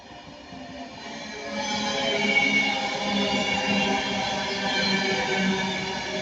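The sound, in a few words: passing train, unit 39136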